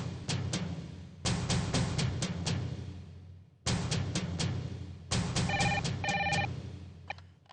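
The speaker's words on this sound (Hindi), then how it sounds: "तस्वीर जी, आपके लिए फोन है।" A telephone rings indoors in a household scene, loud repeated electronic trill bursts in several rhythmic groups with short gaps between them, and no talking over the rings.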